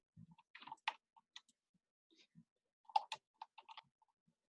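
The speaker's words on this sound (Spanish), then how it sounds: "Yo le voy a dar clic acá." Sparse mouse clicks on a computer during work in InDesign, a few scattered sharp taps with short gaps, quiet and close with no talking.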